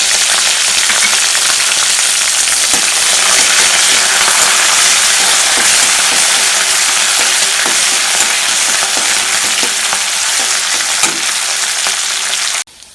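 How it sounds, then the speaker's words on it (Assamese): Curry leaves sizzle and crackle in hot oil during pineapple pickle cooking, after green chillies have gone into the pan. The frying hiss stays loud and steady throughout, with faint stirring, and cuts off sharply at the end. "নৰসিংহৰ পাত ভাজি হৈ গৈছে"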